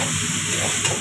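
Maggi noodles sizzle and fry in a pan on high flame while being stirred, a dense continuous hiss close up for about a second.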